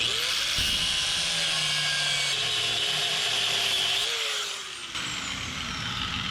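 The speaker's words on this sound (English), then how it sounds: "I think what I'm gonna do is actually cut both sides of that bearing." A power tool grinds steadily through a bearing on a 1928 Ford Roadster, a loud continuous whining cut with shifting pitch and a brief dip near the end.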